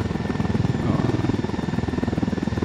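A helicopter in the video game Ghost Recon Wildlands flies in to land, its rotor beating in a fast, steady thumping pulse under a continuous engine drone, loud and close throughout.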